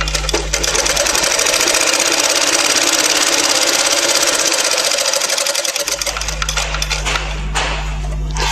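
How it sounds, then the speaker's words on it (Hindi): A sewing machine stitches a garment seam in one continuous loud, fast mechanical whir with a rhythmic rattle, briefly easing then carrying on with a low motor hum underneath. "की सिलाई अभी पूरी कर देते हैं।"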